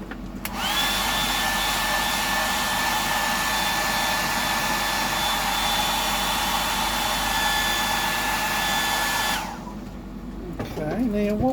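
A hair dryer used to dry paint on a fishing lure, a 100mm Sammy painted in a green flash pattern, running as a loud, steady whirring blow for about nine seconds before switching off, with faint handling sounds after.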